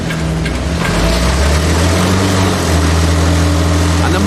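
A demolition muncher machine's engine runs flat out, a loud, steady low drone with a constant humming pitch and a slight rise partway through, going on without a break.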